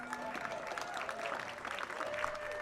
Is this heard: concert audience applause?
yes